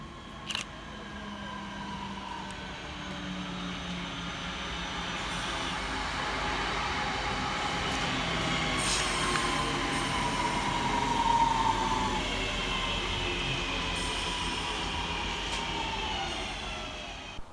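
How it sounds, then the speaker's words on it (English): Northern class 323 electric unit 323238 arrives at Levenshulme station with a fairly quiet rail rumble that swells gradually, and a thin brake squeal that rises and then fades, with no talking. "Arriving next into the station will be 323238, working the 1112 Northern service from Manchester Piccadilly through to Crewe"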